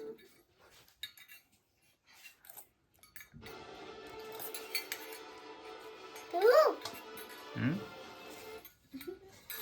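A metal spoon clinks against a teacup as someone drinks tea with it, a short cluster of bright chimes in the middle amid household room noise and a clatter just after.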